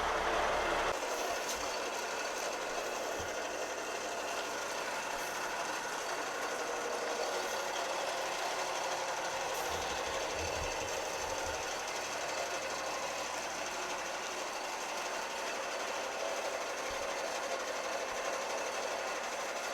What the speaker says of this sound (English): It's just when you give it too many revs, it's trying to cut out, which Mick seems to know what it is